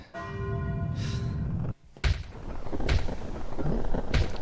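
Clock tower bell ringing in Zelda: Majora's Mask, a loud resonant toll that sustains and fades, followed by heavy booming strikes repeating about once a second with no talking.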